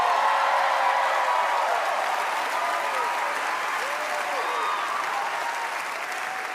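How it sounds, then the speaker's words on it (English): Comedy show audience applauding loudly, a dense sustained roar of clapping with scattered whoops and cheers that slowly tapers over six seconds. "This is where you guys should applaud and go crazy."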